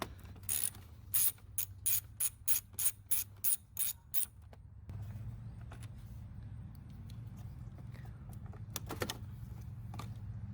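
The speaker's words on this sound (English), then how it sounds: "There's going to be 3 screws to remove this fog light assembly." A ratcheting Torx driver clicks in about a dozen quick, evenly spaced bursts while backing out fog light assembly screws on a Saab 9-3 Aero, then gives way to a low steady hum with faint handling noises.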